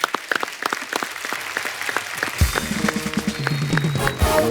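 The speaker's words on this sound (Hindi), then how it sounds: "इस बात के लिए ताली होनी चाहिए।" Studio audience applause on a comedy talk show, scattered claps building into denser clapping, joined partway through by a loud low musical sting.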